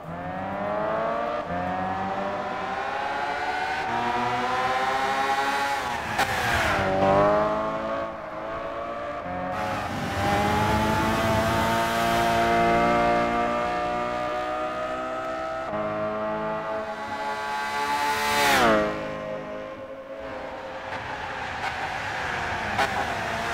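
Race car engines from a Gran Turismo 6 replay roar continuously, rising and falling in pitch through gear changes and accelerations, loud and sustained with no talking.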